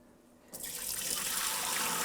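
Dirty water pouring out of the emptied tank of a Kenmore SpotLite carpet cleaner, a sudden steady gush that starts after a brief quiet moment and keeps flowing loud and close.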